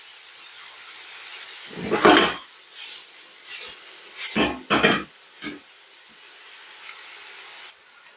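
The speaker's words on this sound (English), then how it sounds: "While it's sauteing them" Ingredients for a tilapia, sweet potato and prawn fish cake sautéing in a pan: a steady hiss broken by several loud scraping stirs and utensil knocks against the pan, close by with no voices.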